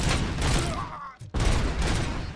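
Rapid bursts of gunfire from the RoboCop: Rogue City video game, loud and continuous, with a brief drop out midway before the dense shooting resumes.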